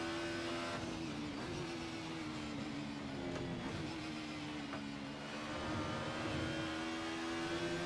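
A 1990s DTM touring race car's engine drones in a sim racing video game, holding a steady, fairly high whine with slight dips and rises in pitch as the car brakes and powers out of corners.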